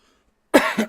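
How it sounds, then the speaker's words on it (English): A single close, sharp cough in two quick bursts after a moment of silence. "All of a sudden, coughing up chunks of lung."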